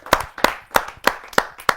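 An open-mic poetry audience claps in welcome of a poet. The claps land in six sharp, evenly spaced beats at about three per second. They ring close and crisp, with no voices.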